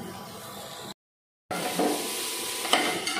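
Oats for upma fry in a pan with salt, giving a steady sizzle with scraping stirs. The sound cuts to a brief silence, then carries on with occasional knocks of the spoon.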